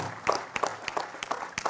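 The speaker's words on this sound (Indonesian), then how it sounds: "Tepuk tangan untuk beliau." Scattered claps from an audience at an Indonesian gathering, sparse and uneven with irregular individual hand strikes rather than a full ovation, moderately close.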